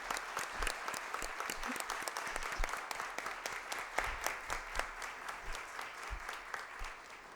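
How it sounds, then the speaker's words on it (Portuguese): Audience at a seminar on neutral language gives applause for Professor Sérgio Pachá, a moderate crowd clapping with distinct individual claps standing out, easing slightly toward the end. "e peço uma salva de palmas também."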